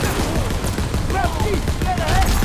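Gunfire in Call of Duty WWII during a Veteran-difficulty campaign mission, dense and continuous over rumbling low battle noise, with a voice talking over it.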